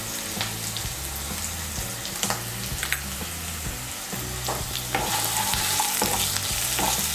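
Vegetables being stirred and fried in oil for Bengali paneer fried rice, a steady close sizzle with repeated scraping strokes of a spatula, growing slightly louder and hissier toward the end.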